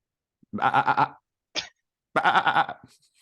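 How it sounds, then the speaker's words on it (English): Two loud, wavering goat or sheep bleats, close by, separated by a short snort-like huff, with silence around them. "barnyard animal noises"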